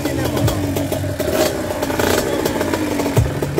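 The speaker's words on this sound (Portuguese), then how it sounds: "Motor KX65, motorzinho de Kawasaki importado" Small imported Kawasaki KX65 engine fitted to a motorized bicycle, buzzing steadily with shifting rev pitch and some clatter, loud and close, apparently during a street ride.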